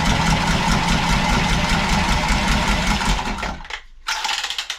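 A powered press-fit tool crimping a plumbing pipe fitting on a mains feed into a vented cylinder, giving a loud, close mechanical drone that cuts off abruptly, followed by a few quick ratcheting clicks.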